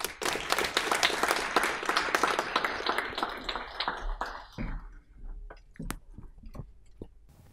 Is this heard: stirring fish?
no